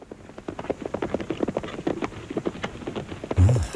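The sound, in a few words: horse hooves clip-clopping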